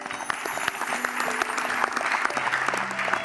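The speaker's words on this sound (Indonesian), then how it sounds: "Tepuk tangan dulu dong." Studio audience applause on an Indonesian pre-dawn Ramadan (sahur) TV show, a dense, steady wash of many hands clapping at moderate loudness, with faint tonal music or voices threaded underneath.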